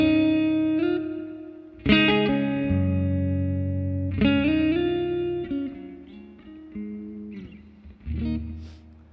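A Les Paul electric guitar rings out clean chords through a Line 6 Helix on a twin reverb amp setting with lush reverb, several strummed phrases sustaining and decaying in a spacious tail.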